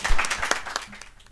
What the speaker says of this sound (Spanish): No me aplaudáis, hay que aplaudir a los ponentes y a Jorge